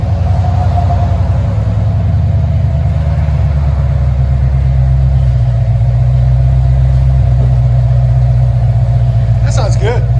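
A 1986 Chevy Corvette with a 5.7L V8 and Flowmaster Super 10 dual exhaust idles with a loud, steady, deep rumble that holds close and constant throughout.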